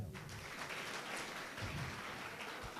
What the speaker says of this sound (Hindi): जिन्होंने हाथ ऊपर किए एक बार इनके लिए ताली बजाओ